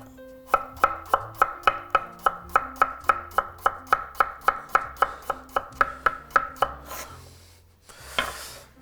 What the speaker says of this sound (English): once you've cut the potato